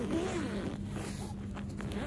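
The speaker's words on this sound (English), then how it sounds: "Now here is the zipper." Zipper on a polyester furniture cushion cover being pulled, a close, faint run of rasping ticks over a couple of seconds, with soft background noise.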